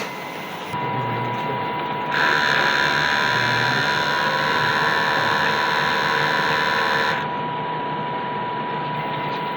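An Epson XP600 DTF printer running a head clean cycle, a steady mechanical whir and hum that rises into a louder tonal buzz for several seconds before settling back to a lower drone.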